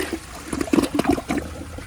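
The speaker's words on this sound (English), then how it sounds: "that's a good flush" A 1983 Gerber Mt Vernon toilet flushes, a close rushing swirl of water with gurgling pulses that rises and then trails off into trickling.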